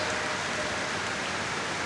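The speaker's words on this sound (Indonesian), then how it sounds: "Hari ini hujan deras guys" Heavy midday downpour in Binangun, Cilacap, a thick, unbroken roar of rain drumming close by at steady loudness.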